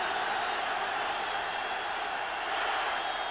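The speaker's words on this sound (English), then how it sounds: "And a crowd roaring against you." Stadium crowd at a 1998 NFL football game, Rams at Buffalo, roaring steadily as a dense, continuous wash of distant noise without breaks.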